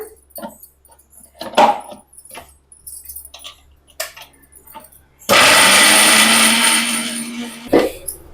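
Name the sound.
mixer grinder blending tomatoes into paste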